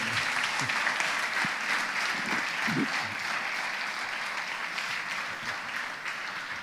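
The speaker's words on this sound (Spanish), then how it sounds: "un aplauso para los 4, por favor." A congregation claps for four people at a church gathering, producing a full, continuous round of applause that holds steady for several seconds before easing slightly toward the end.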